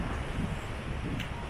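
Wind blows steadily across a microphone at the Kuşadası seaside, a continuous broadband rush at close range with no pauses.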